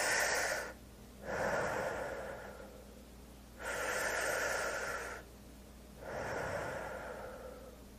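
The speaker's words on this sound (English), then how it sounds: "you take a deep breath in and you stretch out your wings, and then you blow a deep breath out" Deep breathing in and out as part of a butterfly breathing exercise, three long slow breaths with pauses between them, close and clear with no talk.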